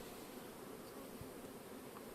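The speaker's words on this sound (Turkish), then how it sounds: "Arımız bayağı bir kalabalık." Dense, steady hum of many honeybees swarming over an opened hive with a crowded F1 colony, a continuous low drone throughout with no pauses or voices.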